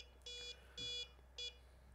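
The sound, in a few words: electronic safe lock incorrect-code beep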